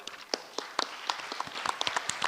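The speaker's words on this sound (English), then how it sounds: "let's join hands, give her the big applause" Applause from an audience at a city council meeting, scattered individual claps building into a denser, moderately close burst without any voices over it.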